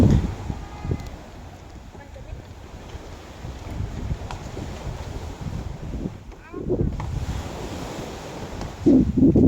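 Ocean waves washing onto a Thai beach, a close, rumbling surf with wind buffeting the microphone throughout.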